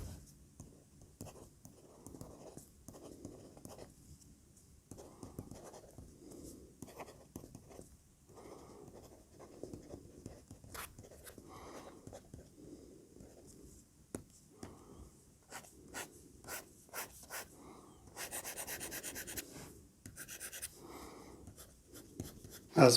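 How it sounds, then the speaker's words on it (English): Felt-like Remarkable 2 Marker nib scratching across a Remarkable 2 tablet screen in steady bursts of writing strokes, with sharper taps and faster scribbles toward the end, close and fairly quiet with no talk. "I will let you listen to the sound of the pencil nibs on the surface of the tablet."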